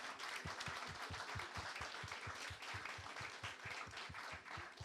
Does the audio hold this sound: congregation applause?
yes